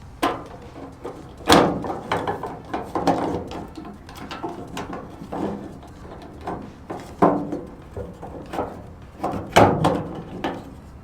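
Worn plastic tailgate handle bezel being pried off a 1998 Chevy C/K 1500 pickup: irregular nearby clicks, snaps and scraping knocks scattered across a quiet background, with a few sharper pops.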